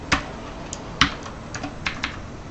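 Typing code on a computer keyboard: a handful of distinct keystrokes at an uneven pace, close and fairly loud over a steady background hiss.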